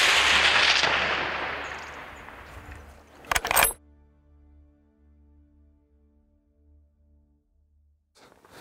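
A single loud rifle shot fired at a bull while hunting on safari, a sharp blast with a short rumbling tail over outdoor wind, then quiet with faint distant noises.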